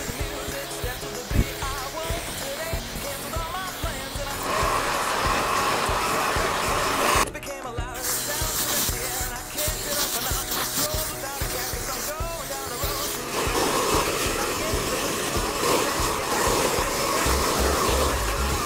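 Dyson Supersonic hairdryer running in a test, a steady blowing whir that shifts in pitch and strength between settings, with a brief break partway, moderately quiet and close.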